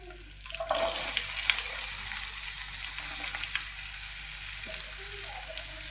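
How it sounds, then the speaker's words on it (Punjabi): Okra dropped into hot oil with turmeric in a pan, a sudden burst of sizzling that settles into a steady, close crackle with faint stirring; no speech. "ਹੁਣ ਆਪਾਂ ਪਾ ਦਾਂਗੇ ਇਹਦੇ ਵਿੱਚ ਭਿੰਡੀਆਂ"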